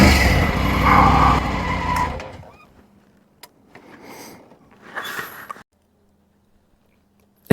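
A motorcycle, arriving after a ride toward a famous glacier, idles loudly up close and is shut off during parking; it falls quiet, followed by a few scattered clunks and handling noises.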